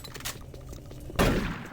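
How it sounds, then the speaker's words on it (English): Machine gun fire in the video game Doom 3. Faint rapid shots are followed by a loud, close burst of gunfire that cuts in sharply and rings on to the end, with no talking over it. "Machine gun!"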